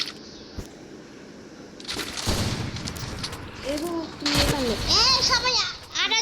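Gunfire in a team shooter video game: quick bursts of shots and sharp cracks layered over a steady game soundscape, with a young voice talking throughout.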